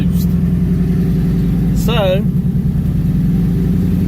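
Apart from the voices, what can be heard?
2019 twin turbo Mustang EcoBoost engine at high idle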